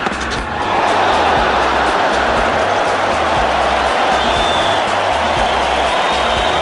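A large Melbourne cricket crowd greets Imran Khan with jeers as he walks out to bat, a dense, steady roar of massed voices filling the stadium throughout without a break.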